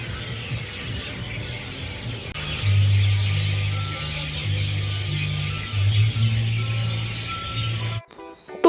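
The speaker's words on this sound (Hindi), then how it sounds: "एक साइड मेरे को चिड़ियों की चहचहाने की बड़ी आवाज़ आ रही थी" A dense chorus of birds chirps loudly in an open outdoor area in Chandigarh, continuous over a low rumble, then cuts off abruptly near the end.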